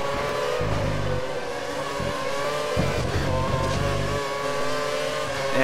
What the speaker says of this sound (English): I'm hitting the rev limiter